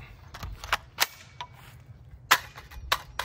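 An IWI Tavor rifle fires several rapid, sharp shots in quick succession, each a distinct crack separated by brief quiet moments.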